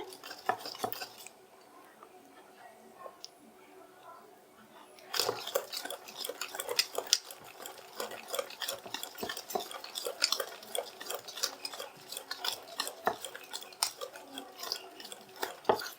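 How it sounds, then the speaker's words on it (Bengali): Eggless palm cake batter made with palm pulp is stirred in a bowl, a quiet pause giving way to busy, close scraping and clinking of a utensil against the bowl. "সব উপকরণ আমি এইভাবে পাঁচ মিনিট মিশিয়ে নিলাম"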